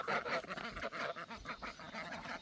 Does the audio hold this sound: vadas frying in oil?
no